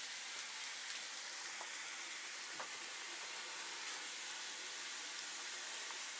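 Pink salmon frying in a pan, a steady close hiss and crackle of hot oil that holds at an even level throughout, with scattered small pops and no talking.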